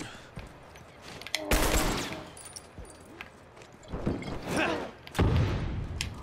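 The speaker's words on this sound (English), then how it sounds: "He threw a nail bomb, and then my Molly hit it." A nail bomb in the game Factions, set off by a Molotov hitting it: several loud, close bursts and cracking blasts in quick irregular succession, with quieter clatter in between.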